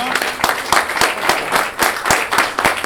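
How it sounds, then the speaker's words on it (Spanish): An audience at a book presentation at the Museo del Cine applauds Pablo Marín, giving close, lively clapping with a few sharp claps standing out in a loose rhythm over the steady wash of the crowd. "un aplauso para Pablo"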